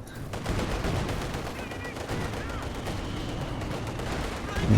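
Artillery barrage and machine gun fire boom and rattle in a competitive World War II strategy game match, dense continuous gunfire with explosions throughout, no talk over it.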